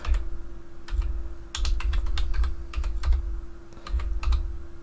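Typing on a computer keyboard in bursts of quick clicks and a few pauses between groups of keystrokes, close and clear over a steady low hum, with no talking.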